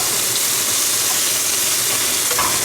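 Bacon sizzles and crackles steadily in a pan, a dense, continuous frying hiss with no pauses, close and fairly loud, with no voices over it.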